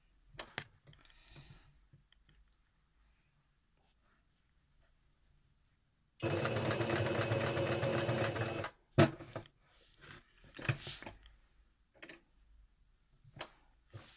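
A sewing machine stitches a cloth pad in one steady, close run of rapid whirring that lasts a couple of seconds. Quiet handling clicks and taps come before and after it.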